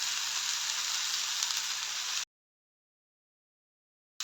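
Moringa drumstick pieces for thoran sautéing in a pan give a steady, bright sizzle for about two seconds, then stop abruptly into silence before the sizzle briefly resumes at the end.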